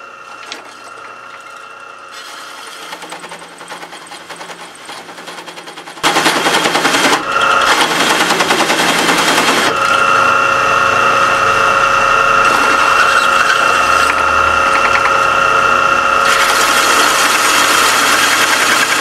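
A hole saw cutting into iron, starting as a quieter mechanical whir, then jumping to a loud, harsh, continuous grinding roar that holds steadily for over ten seconds with no voices.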